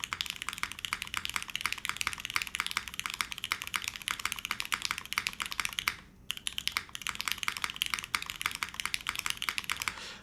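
A mechanical keyboard fitted with X-ray keycaps is typed on at a fast, steady pace. The clicky keystrokes sound close and fairly loud, with one short pause, and no one speaks.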